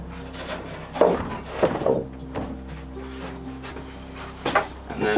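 A wooden sauna seat panel is pushed and knocked into its slot, giving several sharp wooden thumps and short rubbing scrapes, with a low steady hum behind them.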